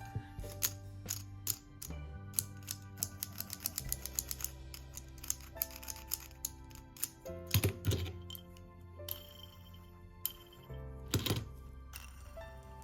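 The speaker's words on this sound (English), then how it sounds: "Now let's test out these fidget pencils." Mechanical pencils with fidget parts click rapidly in dense, uneven bursts of sharp plastic taps and ratcheting snaps, close and crisp, over a steady low hum with no talking.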